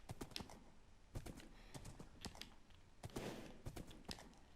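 A horse in the Minecraft video game trots with quick, crisp hoof clip-clops in uneven bursts, close and clear with no talking.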